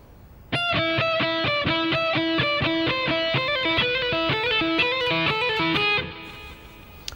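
A slow electric guitar lick played with hammer-ons and pull-offs on the high E and neighbouring strings, a distorted tone moving through a steady run of sustained notes, then fading to a ringing tail.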